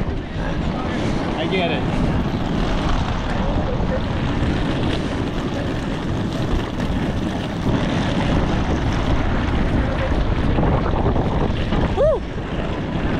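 Strong cold wind buffets the microphone at Oakland airport, a continuous rough rumble that swells and eases, with someone talking briefly over it.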